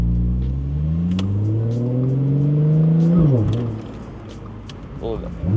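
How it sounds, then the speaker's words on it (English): An Audi S4 revs hard as it accelerates through the gears, its engine note climbing, then it jerks through a rough shift with a sudden drop and a wobble before the revs build again. A voice speaks over it. "Oh, that was a terrible shift"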